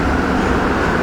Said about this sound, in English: that is, of course, an MR73 train that we're on